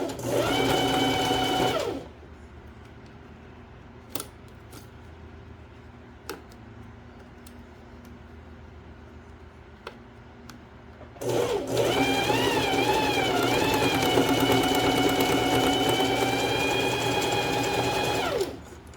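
A domestic sewing machine stitches a swimsuit in two loud, steady whirring runs, the first brief and the second longer, separated by a quiet stretch with a few faint clicks.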